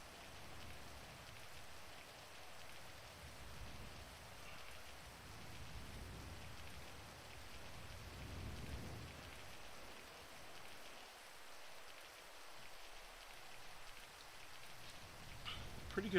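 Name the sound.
rain in GTA 5 video game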